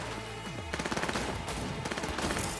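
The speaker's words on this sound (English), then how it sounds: "Who are they shooting?" Automatic weapons rattle in a Cyberpunk 2077 street fight: fast, evenly spaced bursts of machine-gun fire crackle one after another at close range, dense and continuous for a couple of seconds over the game's background score.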